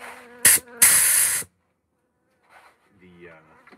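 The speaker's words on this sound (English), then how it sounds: "honeybees, like this guy is, flying around" A honeybee flying close by, giving short loud buzzing bursts that fade away, followed by near silence and faint, quiet sounds.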